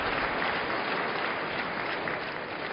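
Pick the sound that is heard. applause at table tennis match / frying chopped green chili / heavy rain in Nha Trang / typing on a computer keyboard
applause at table tennis match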